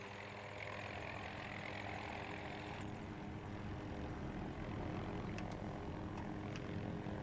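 A helicopter in Battlefield 2042 produces a loud, continuous rotor and engine roar that holds steady throughout, with a slight shift partway through and brief clicking higher up near the end.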